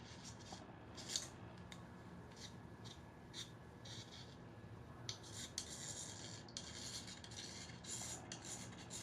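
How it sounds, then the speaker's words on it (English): A blade held flat scrapes lightly across the deck surface of a 2008 Acura MDX engine block during prep. It makes quiet, close, repeated short rasping strokes in an irregular rhythm, with no talking. "Just kind of lightly scrape there."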